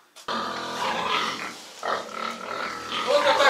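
Sows on a pig farm grunting and snorting in quick, irregular bursts at close range, several animals overlapping, with no talking.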